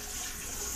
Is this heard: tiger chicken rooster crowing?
no